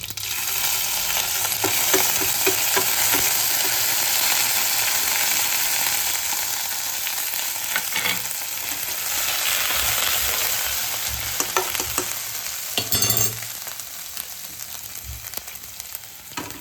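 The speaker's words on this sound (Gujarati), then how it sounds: "એમાં આદુ લસણની પેસ્ટ નાખી દઈશું." Ginger garlic paste frying in hot oil for Mumbai-style vada pav makes a loud, steady, close sizzle that barely lets up, with a few brief utensil clatters near the end and no voices.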